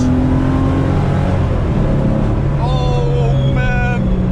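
A 1986 Porsche 911 Elmerhaus widebody accelerates at full throttle, a loud close engine roar climbing steadily in pitch through the gears.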